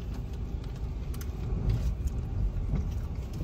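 Cars drive around a broken-down Amazon delivery vehicle, a low, steady road rumble with a slight swell midway, heard from inside a nearby vehicle.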